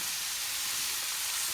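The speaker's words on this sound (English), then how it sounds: "we're going to let those sear" Adobo-seasoned meat sears on a hot griddle, giving a steady, close, even sizzle with no talk.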